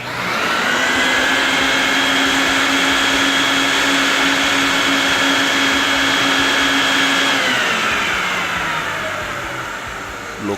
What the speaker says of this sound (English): vacuum all the Dead Sea minerals through the rug